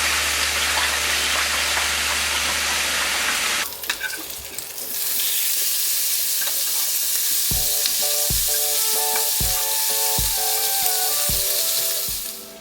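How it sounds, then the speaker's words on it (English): Bacon slices fry in a hot frying pan with a steady, loud sizzle and crackle that runs throughout, briefly disturbed midway, followed by a series of soft regular thumps near the end. "So in my hot frying pan, I'm adding a few slices of bacon, okay?"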